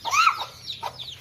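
Baby chicks in Sivagangai let out two short, high, rising chirps, the first fairly loud and close, the second fainter.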